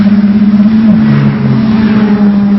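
A pack of race cars at the Katakurunda circuit, Sri Lanka Air Force Base, several engines droning loud and close in overlapping tones that shift as they pass, continuous throughout with no voices.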